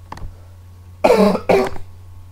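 Two sharp, close coughs in quick succession, with a faint throat sound just before them in an otherwise quiet room.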